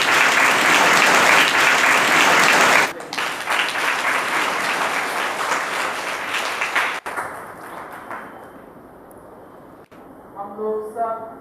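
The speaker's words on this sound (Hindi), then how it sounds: "हम लोग जोरदार तालियों से स्वागत करेंगे।" A church congregation at St. Mary's Church, Rajgir, breaks into loud welcoming applause during a Grandparents and Parents Day celebration, dense clapping for about three seconds before fading into scattered claps and quieter room noise.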